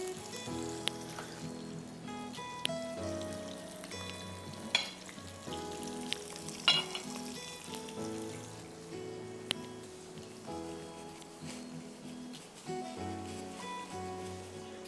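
Four pieces of fish fry in hot oil with a steady sizzle and crackle that runs throughout, under continuous background music.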